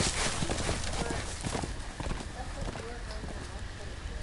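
Horse hooves clopping after a jump in a Game of Thrones video game, a rapid galloping rhythm, fairly loud and continuous, mixed with dense game noise and a voice talking over it.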